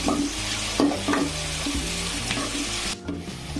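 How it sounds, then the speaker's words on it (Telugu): Sliced green chillies frying with onions in a pan for a Telugu fish curry, a loud continuous sizzle close by with a few scraping stirs of a spoon, no voices. "ఇప్పుడు పచ్చిమిరపకాయలను 2 చీలికలుగా చేసుకొని, చిన్నగా చీలికలుగా చేసుకొని అందులో వేయించుకుంటున్నాము."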